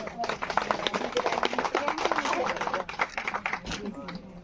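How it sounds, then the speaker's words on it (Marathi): Guests at a village engagement ceremony clap to welcome the couple, a brisk, uneven patter of many hands with voices talking over it. "आपण देखील टाळ्या वाजवून त्यांचं स्वागत करायचं"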